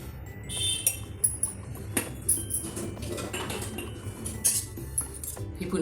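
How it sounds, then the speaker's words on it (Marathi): A spoon stirring dill and moong dal vegetable in a metal pan, giving a string of light clinks and scrapes at irregular intervals, close and fairly soft. "ही पुन्हा एकदा आपण छानपैकी हलवून घेतोय"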